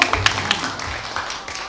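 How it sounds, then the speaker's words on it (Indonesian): A handful of scattered hand claps, sharp and fairly close, burst out at the start and quickly thin away. An audience is clapping at a Balinese arja performance at a temple, Pura Puseh Lodtunduh, during an Independence Day remark. "Tepuk tangan dulu"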